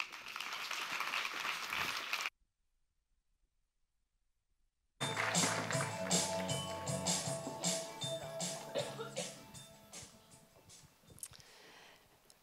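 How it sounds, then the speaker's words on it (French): A conference audience gives a short burst of applause for two speakers, then everything drops to near silence before tonal, music-like sound starts and carries to the end. "merci de vos chaleureux applaudissements pour Michel et Agathe"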